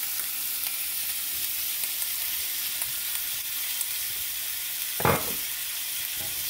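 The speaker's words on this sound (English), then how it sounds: "Start to saute some garlic" Chopped garlic sautés in olive oil in a pan, a steady close hiss and crackle of sizzling that runs throughout, with one brief louder burst near the end as it is stirred.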